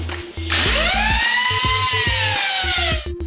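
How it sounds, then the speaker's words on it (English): A high-pitched power tool whines close by while beveling the edges of steel side pieces for a Harley bagger neck rake kit, rising as it bites into the metal and holding a shrill grinding tone. "Now we're gonna bevel the edges for a nice tight fit."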